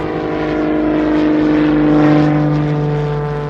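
A small Pitts S-2A aerobatic biplane drones on takeoff, a steady harmonic engine hum swelling slightly then easing, heard alone without talk.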